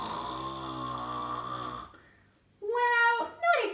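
A voice imitates a grandfather's loud snoring: a long, buzzy, rasping inhale snore, then a brief quiet gap and a higher, whistling snort-like exhale in two bursts, close and loud, in a cartoon.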